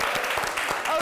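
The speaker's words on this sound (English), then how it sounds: "Let's give them a round of applause." Audience applause breaks out after guests are thanked at a Queen's College event, a dense wash of clapping with some voices mixed in, steady and fairly loud for about a second.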